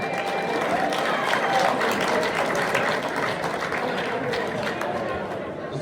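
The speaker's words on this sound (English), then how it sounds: "Give them a round of applause" Banquet audience at an amateur motorcycle awards night applauding a state champion in the 50-plus class, a dense, steady wash of clapping that fills the room for the whole stretch, with voices mixed in underneath.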